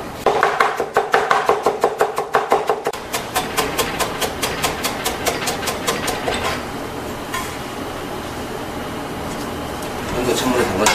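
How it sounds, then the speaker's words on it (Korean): Carrots being julienned with a knife on a cutting board, a fast, steady run of sharp rhythmic chops, close and loud, slowing and thinning toward the end. "당근도 이렇게 채를 썰어 주시고요"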